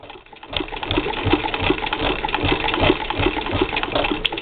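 A 1937 Singer 15-88 sewing machine stitching steadily during free-motion darning, with a close, loud, continuous mechanical whirr and rapid needle chatter that starts after a brief pause.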